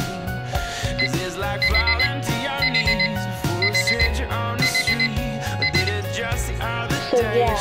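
A loud alarm clock rings in repeated rapid bursts of high bell-like tones, steady and insistent, with no voices.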